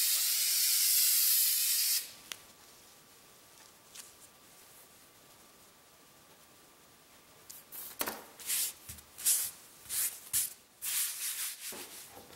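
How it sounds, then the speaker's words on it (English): A loud, steady hiss of an aerosol can spraying adhesive for about two seconds, then quiet, followed by rubbing and scuffing sounds. "With spray glue, even a relatively heavy coat is easy to keep on one side."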